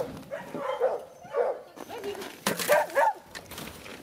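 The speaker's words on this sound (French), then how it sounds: "Et comment vous avez choisi ces chiens?" Several dogs at a home in Quebec's Charlevoix region give short barks and yelps in a few bursts, fairly close, with people talking in between.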